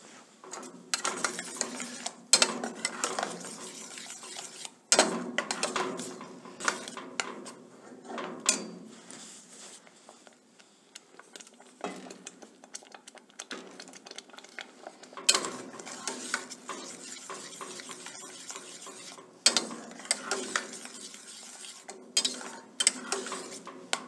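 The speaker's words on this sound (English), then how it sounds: "Stir it up. Increase the heat slightly." A spoon stirs tomato sauce in a metal pot over heat, producing irregular scraping and clinking against the pot sides with soft sloshing, close and steady throughout with no talk.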